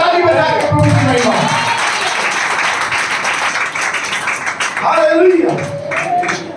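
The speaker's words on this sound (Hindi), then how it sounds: "ताली बजा के प्रभु की महिमा।" Church congregation at a Sunday service in Bhilai clapping in praise, a dense sustained wash of applause throughout, with a voice speaking over it near the start and again toward the end.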